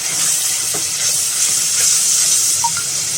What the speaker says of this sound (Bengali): দেখুন আমি নাড়া দিচ্ছি, ছিটা পড়ছে না